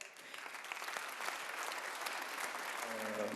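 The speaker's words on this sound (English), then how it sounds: "Je vous demande de l'applaudir très fort" Audience applause at a congress closing ceremony in Luxembourg, a soft, fairly distant wash of clapping from the hall that holds steady throughout, with a brief voice near the end.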